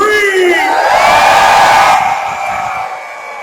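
A big convention crowd bursts into loud cheering, whooping and yelling together on cue, a dense roar that swells and then slowly fades.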